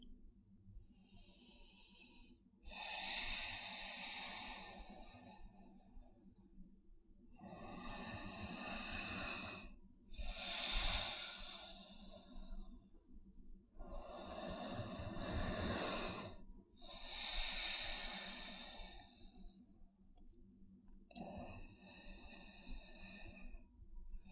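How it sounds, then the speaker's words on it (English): Slow, deep breathing during a held yoga pose in an inversions session: long, loud airy inhales and exhales alternating with short pauses, close by and alone without talk. "We stay for 10 breaths."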